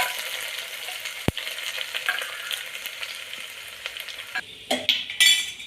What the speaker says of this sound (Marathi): हे बघा मसाला पूर्ण फ्राय झालेला आहे अद्रक लसूण फ्राय झालेला आहे